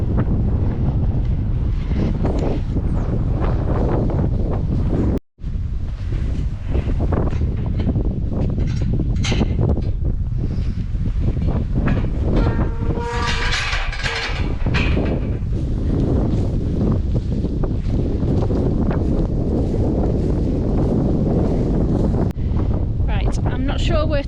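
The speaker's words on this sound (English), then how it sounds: "Oh, it's windy." Strong gusty wind on the Cumbria Coastal Way between Whitrigg and Silloth buffets the microphone continuously, a loud rumbling roar with a person talking faintly underneath.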